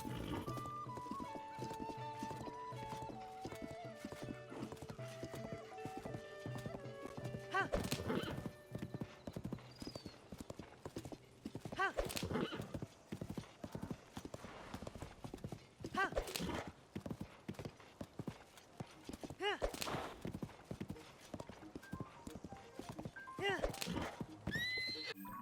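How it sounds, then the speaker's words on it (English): A horse in the video game Tears of the Kingdom neighs and whinnies repeatedly while its hooves clip-clop in bursts, fairly close, with someone talking over it. "Really, horse? You're freaking out because I ran you into a bush?"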